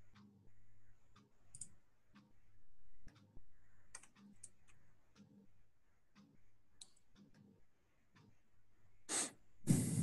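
A computer keyboard is typed on while chatting, producing irregular, sparse clicks and key taps close by in a quiet room, with a couple of louder bursts near the end.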